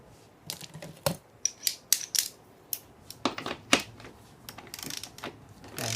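A 10 millimeter bolt is run in with a ratchet during an NP249 transfer case rebuild, giving a series of sharp metallic clicks and clacks in irregular bursts, close and alone.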